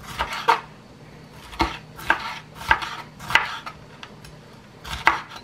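A knife chops yellow chile into strips on a cutting board, giving about seven sharp, separate knocks with irregular gaps, close and clear over a quiet room.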